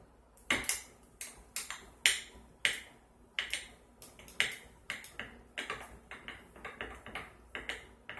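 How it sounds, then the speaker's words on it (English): Sharp, irregular clicks and taps of a utensil knocking against a container while a mixture is stirred vigorously, close and crisp, about two dozen strikes over several seconds with no talking. "So I'm just going to stir this. Give it a real good stir."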